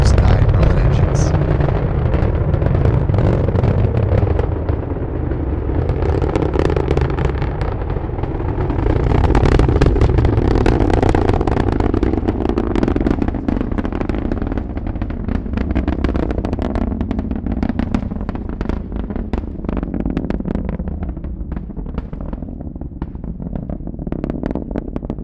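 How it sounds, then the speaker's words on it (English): A SpaceX Falcon 9 rocket lifts off on a Starlink mission and its nine Merlin engines roar. The deep, rumbling, crackling thunder is sustained and powerful, rolling on for the whole stretch without fading. "Let's listen to the roar of those 9 Merlin engines."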